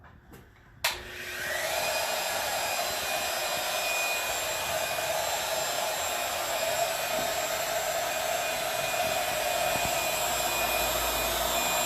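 A handheld router runs steadily as it cuts tongue and groove profiles into porch floor boards clamped together in a garage. It starts with a sharp onset after a brief quiet moment, then holds a loud, continuous high whine with no talk.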